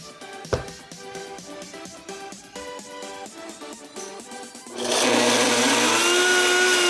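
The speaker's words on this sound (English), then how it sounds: "Once it cools down, we're gonna grind them in our blender." A blender grinds roasted chana ghugni spices: after some rattling and knocking, the motor roars up at about five seconds into a loud, steady whir that holds to the end, with no talking.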